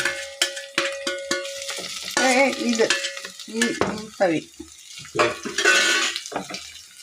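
Half-sautéed onions added to a pan for beef biryani curry are stirred loudly up close: sharp metal clanks and squeaky, scraping ladle strokes ring over a low sizzle in uneven bursts.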